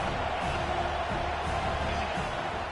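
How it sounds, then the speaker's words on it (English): Home crowd in a stadium in the NCAA 26 college football game, a continuous roaring wall of cheering that holds steady and loud throughout, with no distinct talk over it. "how nice is it to have the home crowd going absolutely bananas"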